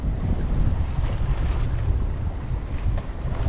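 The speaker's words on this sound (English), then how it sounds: "Got full sail up." A cruising sailboat under full sail, heeled over and making about four knots, with steady loud wind rush and water noise continuous throughout and no voices.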